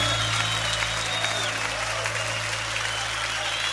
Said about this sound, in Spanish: Levanta tu aplauso a Él fuerte